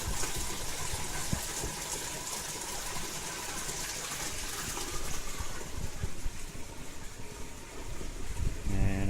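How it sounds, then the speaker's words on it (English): An aquaponics bell siphon drains water through PVC pipe under suction lock, giving a continuous close rushing gush that holds steady for several seconds with no talking. "Just draining all the water out now while it's got that suction lock"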